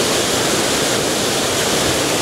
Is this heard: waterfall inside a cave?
yes